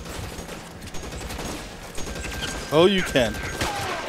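Gunfire in the PS4 game L.A. Noire during a mansion raid, several scattered reports and clicks under game sounds, with someone speaking briefly over the action.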